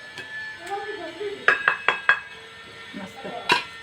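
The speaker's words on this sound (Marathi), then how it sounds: "तर खूपच जड आहे, एकदम दणगट कढई आहे ही." A heavy, sturdy metal kadhai (wok) is handled in a home, giving several sharp metallic clanks and clinks in quick succession, with people talking nearby.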